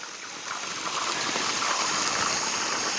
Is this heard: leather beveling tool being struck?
no